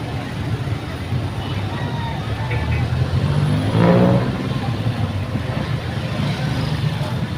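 Cars and trucks pass steadily on a highway main road by a grotto church, forming a loud continuous roadway roar with a vehicle swelling past midway and a murmur of crowd voices mixed in.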